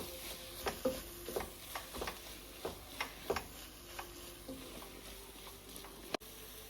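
A prawn biryani mixture with coriander and mint leaves is stirred in a pan, producing quiet, soft, irregular scrapes and taps over a low background, with one sharper knock near the end.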